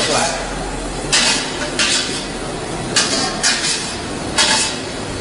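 Popped popcorn pours out of a manual popcorn machine in several short, rushing, rattling bursts, with metallic clinks. Close and fairly loud over a low background hum.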